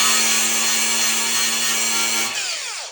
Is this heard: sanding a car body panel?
yes